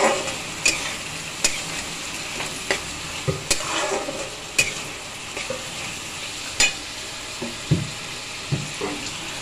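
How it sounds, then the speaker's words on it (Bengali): Carrots fry with salt in a pan, giving a low steady sizzle broken by sharp, irregular scrapes and taps of a spatula against the pan. "লবণ দিয়ে এটাকে ভেজে ভেজে নিচ্ছি। এবারে গাজর দিয়ে দিলাম।"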